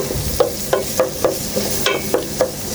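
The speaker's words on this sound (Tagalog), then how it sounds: "At inilagay na yung sibuyas. So yan, nagisa na yung bawang at sibuyas." Garlic and onion sauté in a pan with a close, loud sizzle broken by a regular run of spatula scrapes and taps, about one every third of a second; no voices.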